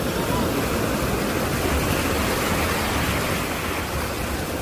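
Ocean waves wash in a continuous broadband roar, a dense steady surf wash at even volume throughout, used as a calm backdrop for a mindfulness exercise.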